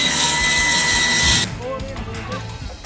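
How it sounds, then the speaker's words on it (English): A power drill drives screws through a rafter into a wooden deck, running loud and steady for about a second and a half before cutting out, leaving quieter background noise and faint voices. "Why are you screwing the rafter into your deck?"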